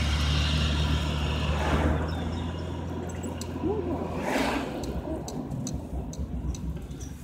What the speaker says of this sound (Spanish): Vamos a darle chance que pase el carro